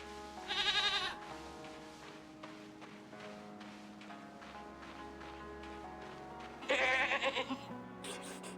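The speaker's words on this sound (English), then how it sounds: "Oh, you didn't ask for the baby goat." A baby goat bleats twice in the REKA video game, short wavering cries standing out clearly above soft background music and ambient game sounds.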